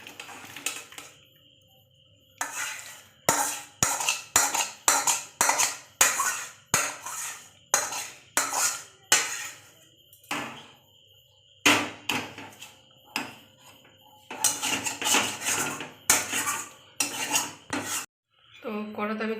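Metal cooking pot clanking and scraping against a stovetop as it is lifted off, with many sharp close metallic knocks and rattles in an irregular rhythm, no talking.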